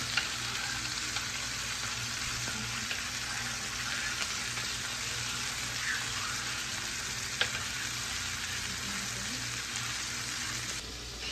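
A Guinness stew being stirred in a pot gives a steady, even sizzle and bubbling, close by and fairly quiet, with soft spoon scrapes and one sharp clink near the end.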